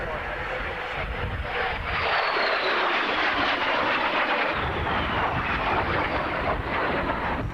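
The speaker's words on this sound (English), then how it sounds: "that's me stalling again so you can hear the aircraft." A fixed-wing aircraft flies overhead, its engine drone swelling and shifting in pitch as it passes, steady and fairly loud, with a voice speaking over part of it.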